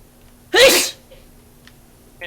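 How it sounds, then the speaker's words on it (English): A single loud sneeze bursts out near the mic, then quiet room tone with a faint tick or two afterward. "I had sneezes."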